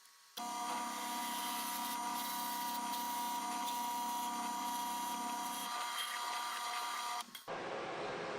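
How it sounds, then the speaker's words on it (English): A drill press bores a hole through a wooden duck call blank, giving a steady whining hum with grinding texture for about seven seconds before it stops abruptly; faint and close, no talking. "finished drilling out the hole"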